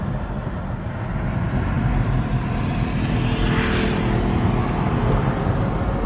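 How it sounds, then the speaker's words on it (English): A 2022 Land Rover drives along on a test road, its engine and tyre roar steady and loud throughout with no voices over it. "Doing the final test drive on the calibration, and everything's great."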